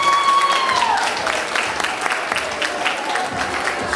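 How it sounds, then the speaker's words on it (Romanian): Audience applause at a Romanian folk and ethnography festival performance, a steady dense clapping that stays loud throughout, with a brief sung or whistled tone fading at the start. "aplauze."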